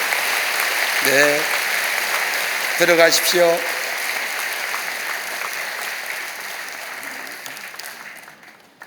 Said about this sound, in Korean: 교우 여러분들은 큰 박수로 환영하여 주시기를 바랍니다.